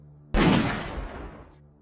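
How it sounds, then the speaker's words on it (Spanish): A single loud gunshot sound effect cracks sharply and then decays over about a second and a half, alone with no voices. "Se oyó un disparo"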